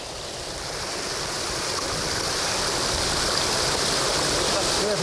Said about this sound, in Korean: 여기에 보면은 물이 3단으로 떨어집니다